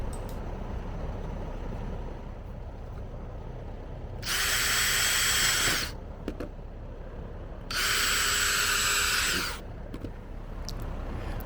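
Power drill boring holes through a lawn mower discharge chute repair piece, two loud sustained bursts of about two seconds each, separated by a pause, over steady background hum.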